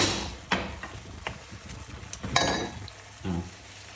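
Vegetables and wild garlic flowers being stir-fried with fresh shrimp in a pan, a steady low sizzle broken by several sharp scrapes and clanks of a utensil against the pan, close and fairly quiet with no talking.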